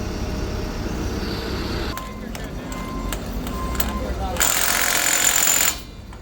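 An impact wrench torques bolts on a Goldhofer heavy-transport trailer during a Kenworth W990 transformer move. It gives rattling hammer bursts, then a longer, louder burst near the end, with voices in the background.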